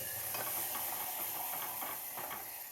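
Tomato sambar masala with chili fries in a pan, a continuous soft sizzle with light stirring scrapes scattered throughout, fairly quiet and with no voices.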